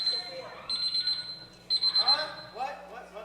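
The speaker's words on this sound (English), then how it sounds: "You guys getting an alarm clock next to a microphone up there?" An alarm-clock timer beeps in repeated bursts as time runs out on a 30-minute Ironman wrestling match, its tone cutting through wrestling commentary and crowd noise.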